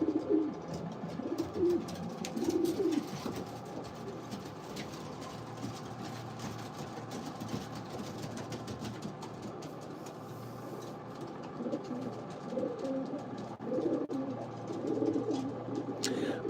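Pigeons coo softly inside a breeder loft, low repeated murmuring calls that come in clusters at the start and again near the end, over a steady background hum.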